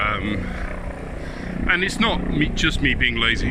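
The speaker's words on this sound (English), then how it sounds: "sorry about the helicopter" A helicopter flies overhead, its steady low rotor drone rumbling throughout as a person speaks close up over it.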